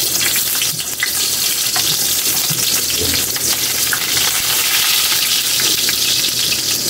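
Garlic sizzles in hot cooking oil in a pan for a shrimp dish, a steady dense frying hiss with small crackles and pops running the whole time, close and loud with no talking.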